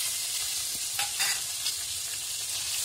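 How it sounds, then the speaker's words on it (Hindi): Whole garam masala spices crackling and sizzling in hot oil in a pan, a steady close fizz with a few small pops, no voices. "हमारे मसालों को बराबर से तड़कने देंगे।"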